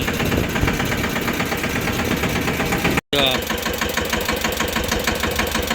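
Tractor engine runs steadily while sowing fertilizer on a farm field, a loud continuous rumble with a brief dropout midway, and a voice talks over it.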